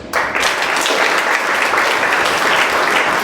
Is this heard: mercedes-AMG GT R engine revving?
no